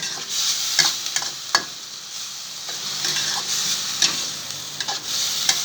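Pad kapow stir-frying in a wok: a steady hiss of frying with intermittent scraping and clanking of a utensil against metal, fairly close and moderately loud, no voices.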